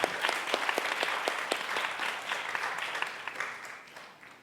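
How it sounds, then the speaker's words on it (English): Audience at a conference closing ceremony in Bangkok claps in a warm, sustained round of applause, with sharp individual claps standing out before it gradually fades. "Please, another round of applause for all of those people."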